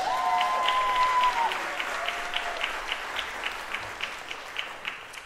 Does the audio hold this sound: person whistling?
no